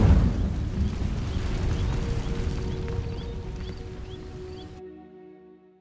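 Incendio fire spell from Hogwarts Legacy igniting dry vines, a loud roaring burst of flame and crackle that slowly fades, with small magical chimes before cutting off.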